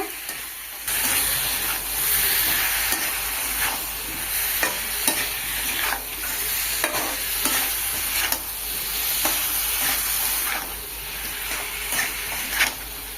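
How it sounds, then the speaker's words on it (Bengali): Fried potato and pointed gourd stirred in spice paste in a pan sizzle steadily and loudly, with repeated scraping stir strokes throughout. "ভেজে রাখা আলু পটল দিয়ে দেবো। আলু পটল দেওয়ার পরে আবারও কষিয়ে নেব।"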